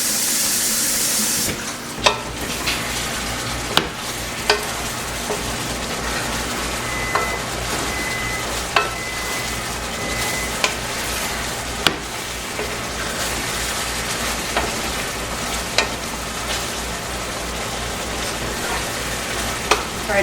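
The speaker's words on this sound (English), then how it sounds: "And then we want to bring that to a simmer." Sauce simmering in a pan, a continuous close bubbling hiss with regular sharp taps and scrapes as a spoon stirs it, fairly loud and without talk.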